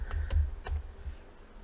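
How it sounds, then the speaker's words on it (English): Computer keyboard keys tapped as a command is entered to launch a Flask application in VS Code: a few quick, soft keystrokes in an irregular rhythm, close by and fairly quiet. "we can go ahead and launch our application by typing in the command"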